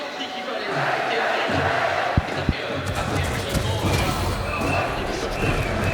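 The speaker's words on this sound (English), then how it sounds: "already look at Ethan trying to silence that crowd." A VALORANT esports arena crowd roars and cheers steadily throughout a quarterfinal match, a broad, dense wash with a few sharp thumps, as a caster talks over it.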